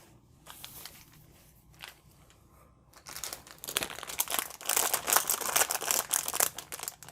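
Plastic LEGO Series 20 minifigure blind bag crinkling as it is felt and squeezed, soft at first and then louder, with continuous close rustling and crackling.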